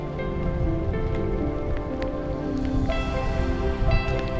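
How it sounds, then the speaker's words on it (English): Rain patters steadily on a tent during a thunderstorm in Algonquin, a dense, close, continuous drumming of drops with no voices. "I have a bit of a thunderstorm and it's raining"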